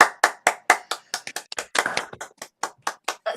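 Scattered applause from a small online audience unmuting their microphones, with uneven individual claps close up and sparse, slightly out of sync, carrying on steadily for a few seconds with no talk.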